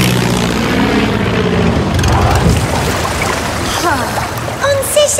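Seaplane engine in a children's story, a steady loud propeller drone with splashing water beneath, continuous throughout.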